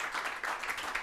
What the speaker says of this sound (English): If we could have a round of applause, that'd be awesome.